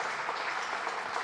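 Steady, dense applause from a church congregation, sustained and fairly loud throughout the short stretch with no pauses, like a crowd clapping together after a call from the pulpit.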